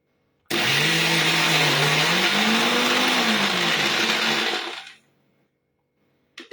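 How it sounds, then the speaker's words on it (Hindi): A kitchen mixer grinder whirs loudly while grinding nuts into a coarse nut butter paste, a steady high-speed motor roar with a wavering pitch that runs for about four and a half seconds before stopping abruptly. "इस तरह से दरदरा होगा और इसे फिर से हमें ग्राइंड करना है"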